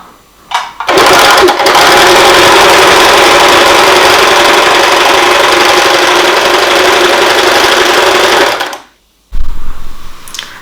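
A Usha Janome Stitch Magic sewing machine runs a plain stitch in one steady, loud whirring burst of about eight seconds, starting and stopping abruptly, with a brief second start at the end.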